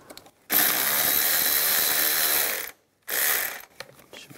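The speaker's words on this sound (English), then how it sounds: "Using a 10 millimeter socket, loosen up this worm clamp down here." Ratchet with a 10 mm socket loosening a worm clamp on a 2004-2009 Toyota Prius, a fast clicking burst of about two seconds, a pause, then a shorter burst, close and clear.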